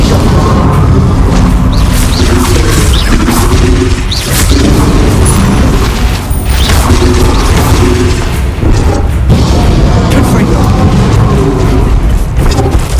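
Spell explosions from Bombarda and Confringo in Hogwarts Legacy, heavy booming blasts and crashes rolling continuously at very high loudness, near and dense with overlapping impacts.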